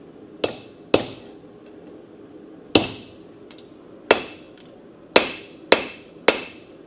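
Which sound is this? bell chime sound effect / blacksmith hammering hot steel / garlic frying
blacksmith hammering hot steel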